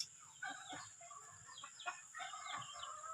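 Texas gamefowl rooster at a chicken farm, giving a few short clucks and calls over steady background bird and farm noise, fairly close.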